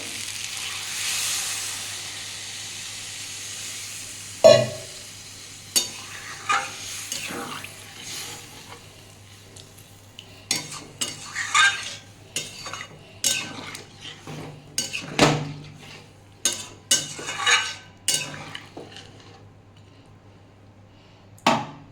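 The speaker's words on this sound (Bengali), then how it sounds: "দিয়ে একটু নাড়িয়ে নেবো" A utensil stirs katla fish curry with potatoes, drumstick and pointed gourd in a metal pan, giving repeated clinks and scrapes amid light sizzling, with a person speaking at times.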